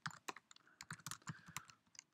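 Rapid typing on a computer keyboard while entering TypeScript code, with a steady run of close, crisp key clicks at an irregular rhythm and no speech.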